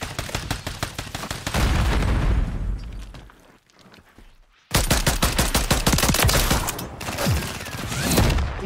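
Loud, dense automatic gunfire in a ranked shooter video game, fired in rapid sustained bursts with a short lull before the shooting resumes just as heavily.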